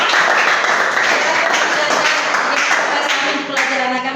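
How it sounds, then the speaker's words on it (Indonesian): A classroom of students claps for a classmate named Nathan, a dense, steady patter of many hands lasting several seconds before tapering slightly at the end. "Tepuk tangan untuk Nathan."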